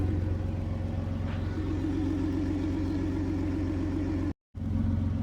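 A Dodge Journey engine running at a steady idle after a battery install, with a continuous low rumble at close range, briefly cut off near the end, and no talking.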